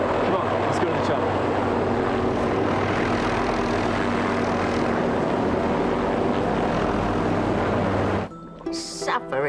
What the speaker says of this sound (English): It's the chopper. The crane helicopter. It's coming to pick us up.